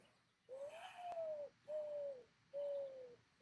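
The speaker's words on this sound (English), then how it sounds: "Oh yeah, that's a mourning dove." A mourning dove coos three times, each a drawn-out, smooth, slightly falling call separated by short pauses. The bird is fairly close and clear over a quiet background, with no talking.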